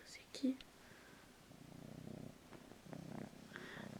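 A female cat purring softly in pulsing waves close to the microphone, faint and low, after a brief sharp sound at the start and with quiet background noise.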